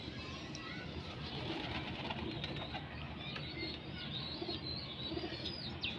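Pigeons call and coo in a busy, noisy spot, soft cooing and faint chirps mixed into steady background clamor, with occasional wing flutters.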